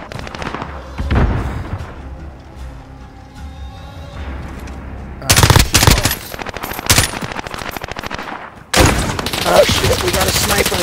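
M4A1 rifle gunfire in a combat video game, loud, close bursts of rapid automatic shots with sharp cracks, interspersed with pauses and distant battle noise, alongside a player talking.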